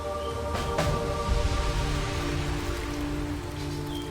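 Rain falls steadily in a coastal Australian rainforest, a dense continuous patter of drops on foliage with a faint sustained tone beneath and a couple of sharper knocks early on.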